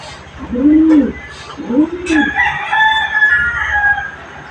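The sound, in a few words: chicken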